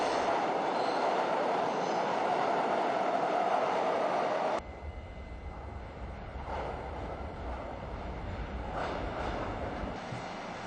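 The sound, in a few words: train passing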